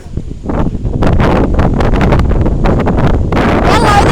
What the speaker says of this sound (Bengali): দেখছেন কি বাতাস